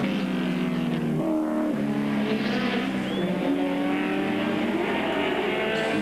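Touring car race cars roar through a circuit's right-hander and S-bends during a 1987 World Touring Car event, engines loud and sustained with shifting pitch as cars pass close, and a crowd wash underneath.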